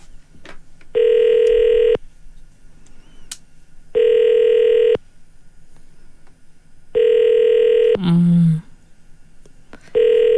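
Outgoing call on a morning radio show ringing unanswered: three loud, evenly spaced one-second ring tones with pauses between, a brief garbled noise after the third, and a fourth ring starting at the end.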